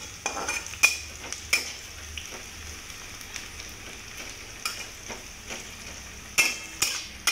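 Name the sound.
spring onion roasting in a pan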